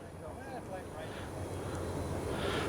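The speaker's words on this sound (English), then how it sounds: "still coming down to maybe a quarter throttle now. Just enough to keep the plane going." An FMS Ranger 1800mm RC airplane flies with its electric motor throttled back to about a quarter, giving a low, steady drone at some distance, with a person talking over it.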